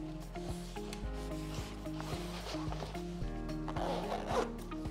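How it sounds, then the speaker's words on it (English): Zipper on a Lululemon Wunderlust 25L backpack being pulled along its track, a close, quiet rasping run in several strokes with short pauses between them. "the zipper here does not go all the way down."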